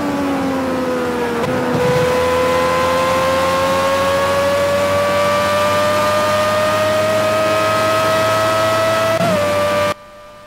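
Formula 1 race car engine in the racing game Project Cars at Monza, a loud sustained high-pitched whine holding near top speed, dipping briefly with gear shifts near the start and end before cutting off abruptly.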